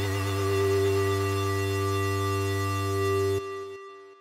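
Serum software synth patch holding a steady harmonic tone with a faint noise layer, its sound shifting as the mod wheel is pushed, then cutting off sharply to a brief decaying tail near the end.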